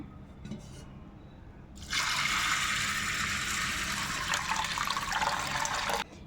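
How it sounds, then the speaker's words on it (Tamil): Water pours steadily into a vessel of black kavuni rice set to soak for idli, a bright continuous splashing stream that starts abruptly, runs about four seconds, then cuts off. "இப்போ நம்ம தண்ணி ஊற்றி ஊற வச்சுக்கலாம்"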